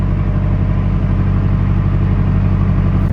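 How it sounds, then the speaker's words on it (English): A narrowboat's diesel engine runs at high revs against a strong flood current, a loud, steady, throbbing low drone close by with a constant mechanical rhythm and no talk. "I'm giving it more revs than normal, but obviously I don't want to push it too hard"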